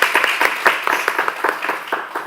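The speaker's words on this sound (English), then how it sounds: "Let's give Harrison a round of applause." Sparse round of applause at a school board meeting, a handful of distinct hand claps with irregular rhythm, fairly close and moderately loud, no voices over it.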